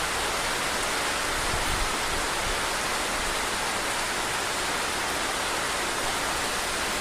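Heavy monsoon rain pours around a house in Kerala, a dense, constant roar of falling water with no pauses, loud and unbroken throughout.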